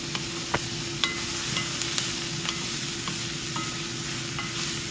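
Onions stir-fried on a high flame with vinegar, salt and chili flakes give a steady close sizzle, punctuated by several sharp clicks of a spatula against the pan, with no talking.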